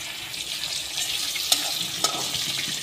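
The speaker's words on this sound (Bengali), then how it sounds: "তেল দেওয়ার পর তেলটা যখন গরম হবে, সঙ্গে সঙ্গে মাংসটাকে এর ভিতরে হালকা করে ভেজে নেব।" Chicken meat fries lightly in hot oil in a pot, a steady, close hiss with a few sharp pops and spatters near the end. No one speaks.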